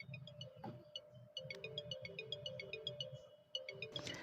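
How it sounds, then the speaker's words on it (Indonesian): A Samsung Galaxy A50's top earpiece speaker plays a faint, thin melodic tone pattern held right up to the microphone, repeating short regular chime-like notes over a soft low hum. "Ini di bagian speaker yang pada saat kita menerima telepon di bagian atas ya. Nah, ini kita coba dengarkan suaranya."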